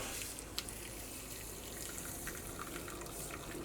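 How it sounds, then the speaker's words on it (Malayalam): Boiling water is poured over chia seeds in a glass, making a faint, steady trickling stream with a few small splashes and no talk. "ഇതിലേക്ക് നമ്മൾ നല്ല തിളച്ച വെള്ളം ഒഴിക്കാം കേട്ടോ"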